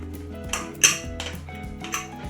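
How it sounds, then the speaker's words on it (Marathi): Metal clanks and clinks as a pressure cooker lid is opened after cooking matki rice, several sharp close knocks of lid against pot over a couple of seconds, no voices. "आता आपण कुकर उघडून बघा बघू"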